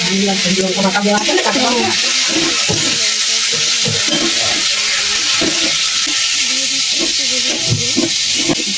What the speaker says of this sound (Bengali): একটু ভালো করে মশলাটা কষিয়ে নিচ্ছি